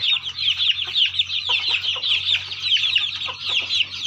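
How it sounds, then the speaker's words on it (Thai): Fighting-cock breed chickens on a farm, a hen with two-month-old chicks, cluck and chirp continuously at close range, a busy overlapping chatter with no voices. "ไก่ชนสายเลือดดี"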